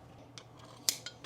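Scissors snip through an old recoil starter string on a Yardmax power trackbarrow, giving a couple of short, sharp close cuts in a quiet room.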